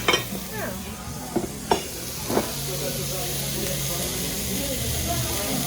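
A sizzling restaurant fajitas plate for one, with peppers and onions, gives a steady hiss of frying under the scene, with a few clinks of dishes near the start while people talk.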